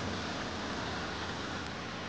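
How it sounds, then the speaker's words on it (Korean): A stream flows beside a wooden pavilion, giving a continuous, broadband rush of running water that stays steady and fairly loud for the whole short stretch, with no voices. "물소리 들리시죠?"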